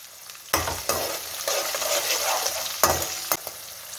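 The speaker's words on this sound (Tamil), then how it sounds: "அப்போ தான் வந்து நமக்கு அந்த பூண்டெல்லாம் வந்து நல்லா வதங்கணும்." Garlic sautés in a hot pan with a little salt for poondu vatha kuzhambu, giving a steady close sizzle broken by several sharp scrapes and clatters of stirring.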